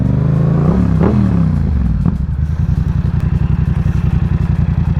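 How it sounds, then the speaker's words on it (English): A Yamaha R7 sport bike's exhaust, loud and close, revving up and dropping back before settling into a rapid, choppy idle pulse that thumps steadily on its own. "y'all heard the exhaust, so I don't gotta go over that"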